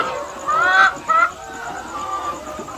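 Egg-laying hens clucking close by in short, rising bursts, with a quieter chorus of birds murmuring in the background.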